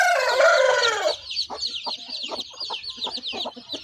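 A hen clucks close by, opening with a drawn-out squawking call and then settling into a run of short, rhythmic clucks, loud and clear with no talk.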